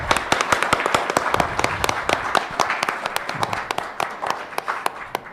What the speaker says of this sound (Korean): 다 같이 서로에게 그런 박수 한번 주고 갈까요?